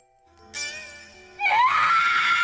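A man screams in a film scene, a long rising wail that starts over a sustained ringing musical tone and swells louder, holding a strained high pitch to the end.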